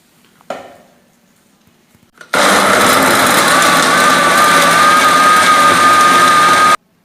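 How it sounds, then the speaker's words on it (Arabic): An electric blender runs loud and steady for about four seconds, whirring through cut lemon and kiwi with water, after a few soft handling knocks. "دونك قطعنا الحامض ديالنا الكيوي وغادي نديروهم دابا في الخلاط الكهربائي"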